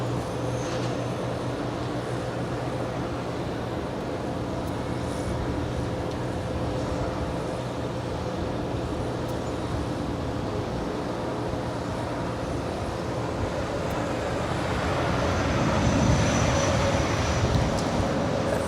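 An Air Canada Boeing 737 MAX 8 arriving at Los Angeles International Airport, a continuous low, broad jet rumble heard from a distance that swells slightly louder toward the end, with no talk.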